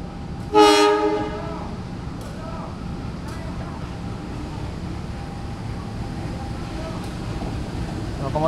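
A train horn from a CC 201 diesel locomotive hauling a passenger train blares loudly near the start with a rich harmonic tone, then fades as rail rumble and passing-car clatter continue steadily underneath.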